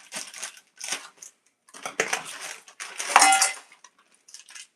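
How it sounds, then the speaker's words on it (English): Scissors snipping and crunching through plastic packaging, in several short separate bursts of crinkly cutting with brief silent gaps between them, close and fairly clear. "Let me get the scissors."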